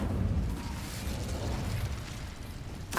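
An Incendio fire spell cast in a Harry Potter video game, a sustained whooshing burst with crackling, rumbling texture that holds steady for about three seconds, ending with a sharp bright pop.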